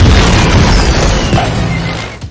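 A fireworks trap goes off inside an empty building in a film scene: a loud, deep boom that rolls into a fading rumble over about two seconds.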